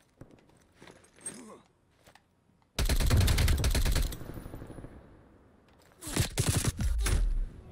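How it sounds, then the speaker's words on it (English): A PPSh submachine gun in Call of Duty: Black Ops Cold War fires one loud sustained burst of rapid shots, then a second burst after a short pause, with faint footsteps and movement between them. "It's a fucking PPSH, man."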